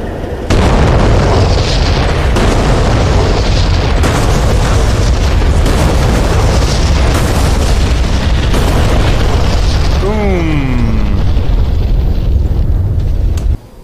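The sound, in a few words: JDAM bombs exploding, A-10C video game DCS World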